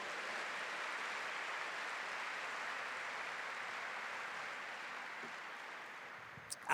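A church congregation applauds the Lord, producing a sustained, even wash of clapping from many hands that fades slightly toward the end.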